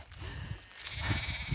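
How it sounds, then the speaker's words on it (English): Sheep in open countryside near Malham on the Pennine Way bleat noisily, several calls rising from fairly close by over a breezy outdoor backdrop. "Sheep are being really noisy now."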